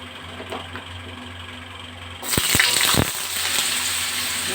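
Sliced sweet pumpkin hits hot oil spiced with cumin and a dried chili, setting off a sudden loud sizzle with a few sharp splatters that settles into steady frying.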